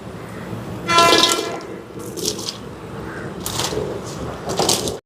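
Water splashes into a cooking pot of drumstick and potato in several short bursts of pouring, close and bright, separated by quieter gaps.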